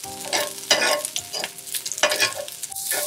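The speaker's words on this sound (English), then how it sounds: "Continue sweating our onions." Onions and potatoes sauté in a pan on the way to a Velveeta cheeseburger, giving a steady close sizzle broken by several scraping stirs and clinks of a utensil against the pan, with no talking.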